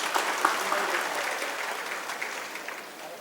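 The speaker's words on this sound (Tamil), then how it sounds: "இதுக்கெல்லாம் ஒரு பலத்த கரகோஷங்களை நீங்கள் கொடுக்க வேண்டும்." Audience applause at a finance company founder's birthday celebration, a dense, steady wash of many hands clapping that slowly tapers off.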